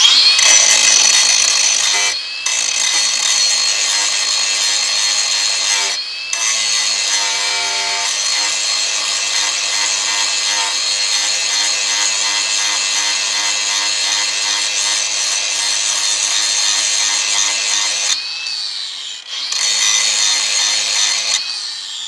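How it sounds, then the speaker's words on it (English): An angle grinder cleans up a metal door hinge on an S10 Blazer with a loud, continuous close-up grinding whine, broken by a few short pauses where the tool lifts off. "I'm going to use my angle grinder on top here."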